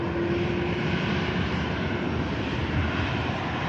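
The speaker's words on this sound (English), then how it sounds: "this is the Ryanair flight to Prague" Ryanair jet bound for Prague climbing out of Manchester Airport, a loud, steady engine roar with a faint high whine at first, constant throughout the short stretch with no talking.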